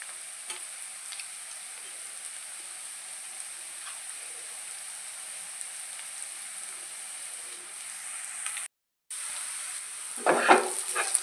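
Onions fry in a pan for a raw organic banana stir-fry, giving a steady, even sizzle close by. It drops out briefly, then resumes with some clattering stirring near the end.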